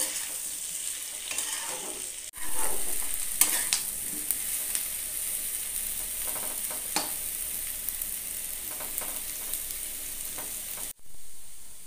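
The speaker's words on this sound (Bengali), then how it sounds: "এইবার খুন্তি দিয়ে সমস্ত মশলাগুলোকে ভালো করে মিক্স করে নেওয়ার সাথে সাথে আবার আমি ভালো করে ভাজতে শুরু করব" Spiced potatoes fry in a pan with a continuous sizzle while a spatula scrapes and turns them in repeated strokes, close and fairly loud.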